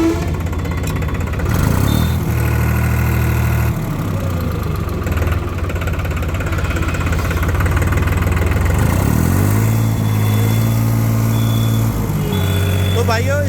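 A New Holland 3630 tractor engine runs in low gear, a loud steady diesel drone with engine pitch rising and falling several times, close by, while someone talks over it.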